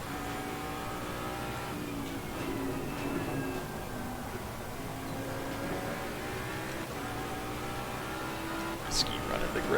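Race car in Assetto Corsa Competizione running off throttle, a fairly quiet engine drone with shifting pitch and rough burble, heard under a person talking.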